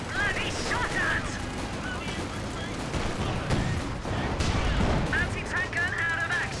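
Gunfire and bursts of shooting in a World War II strategy game, with dense, continuous battle noise and a voice talking over it.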